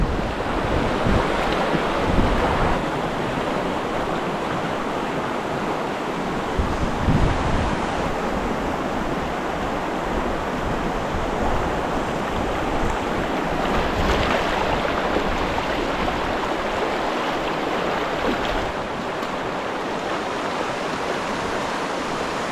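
Strong rain-swollen water rushes steadily and loudly in an unbroken roar, with no voices over it.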